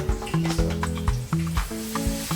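Sautéed yam is dropped into hot oil for Ghanaian fried yam and sizzles with a soft, steady hiss under a light, rhythmic melodic backing, with no talking.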